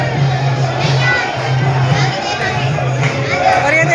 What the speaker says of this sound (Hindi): तो भीड़ बहुत है